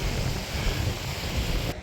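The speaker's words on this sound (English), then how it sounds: "It's very windy, and because of the wind chill factor it's too cold." Strong, cold wind on a dry, rocky mountain trail in the Everest region, heard as a steady loud roar and buffeting against the microphone, with no voices.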